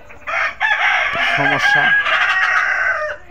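A tiger-breed chicken on a poultry farm crows loudly and close, with clucking mixed in. A voice speaks briefly over it.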